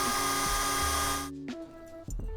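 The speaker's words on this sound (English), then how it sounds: "and just start drilling" A small handheld drill grinds a graphite stick into powder over sanding paper laid across a mason jar, a loud continuous whine that cuts off abruptly, followed by brief lighter buzzing bursts.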